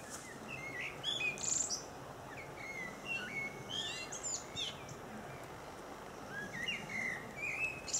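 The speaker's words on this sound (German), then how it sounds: "Das war eine Amsel." A common blackbird sings outdoors at a midsummer gathering, faint scattered chirps and fluting phrases over a steady low outdoor hiss, fairly distant.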